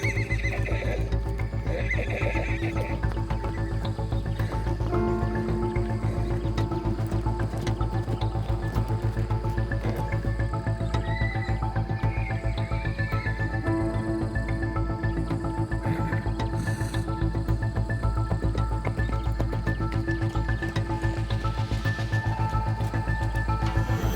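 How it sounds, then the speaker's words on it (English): Wild Australian brumbies whinnying and neighing repeatedly over a steady rumbling background, with hoof clip-clops mixed in throughout, loud and sustained over about 24 seconds. "These wild horses, known locally as Brumbies, don't just roam the landscapes of Australia."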